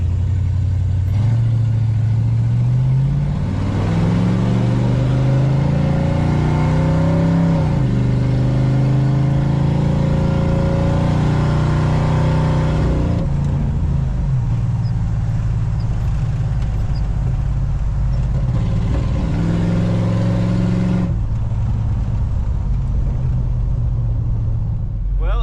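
A 1968 Plymouth Satellite accelerates hard through its gears at night. The engine rumbles loudly and rises in pitch, drops at each shift, and rises again, with a voice talking over it.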